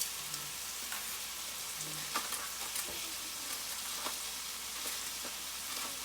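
Whole cloves sizzle in hot oil for a mutton and okra curry, a faint, steady crackling fry with scattered small pops and light stirring clicks, and no talk.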